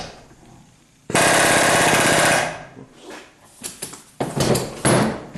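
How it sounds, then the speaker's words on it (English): Punching out a trailing arm bolt on a 1976 Corvette: a loud, harsh pneumatic hammering burst of about a second and a half, then quieter clanks and a few more short rattling bursts near the end. "if I can punch the remainder of the trailing arm bolt out of there"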